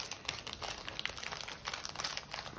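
A Koala's March snack package being opened by hand, a quick run of close crinkling and crackling plastic and foil with no talk.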